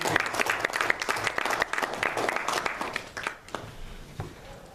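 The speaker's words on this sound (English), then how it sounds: "A big round of applause for Man of Many Things" An audience claps loudly and steadily for a few seconds, the applause then thinning out and fading.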